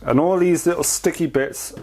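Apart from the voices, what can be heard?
No everyday noise stands out behind the speech.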